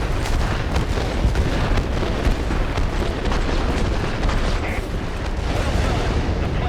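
Continuous heavy rumbling blasts from Wyvern bombing in a combat video game, a dense roar of overlapping explosions that stays loud throughout with no clear gaps.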